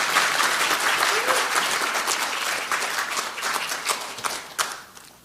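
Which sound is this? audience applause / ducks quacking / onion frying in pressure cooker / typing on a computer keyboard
audience applause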